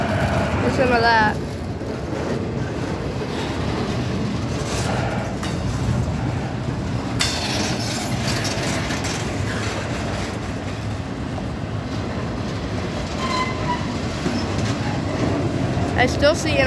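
Train rolling past in a rail yard in Jacksonville, Florida, a steady low rumble with faint clanks, heard at moderate distance throughout.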